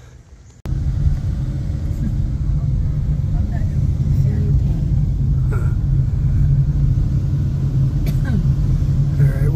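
A car rolling along a road after a park hike, steady low engine and tyre rumble filling the cabin from close by, constant throughout with a few faint knocks on top.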